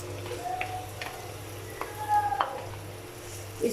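Medium-cut chopped onion frying in oil in a pan gives a steady soft sizzle, broken by a few clinks and scrapes from stirring, with no speech over it.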